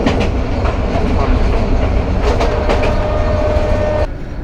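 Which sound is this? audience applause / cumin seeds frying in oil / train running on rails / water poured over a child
train running on rails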